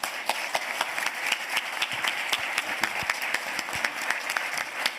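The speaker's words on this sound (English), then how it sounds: "round of applause" Audience at an MBA executive speaker series event giving a round of applause, a moderate, fairly sparse patter of individual claps from a smaller group, with distinct hand claps audible throughout.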